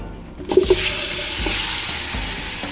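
Chicken drops into hot onion oil with a sudden loud sizzle, followed by steady crackling frying and a few soft clatters.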